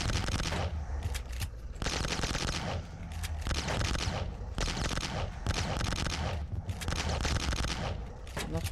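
Dense bursts of rapid gunfire in sustained volleys, loud and close, broken by brief pauses between rounds of shooting, from the video game Boxhead 2Play.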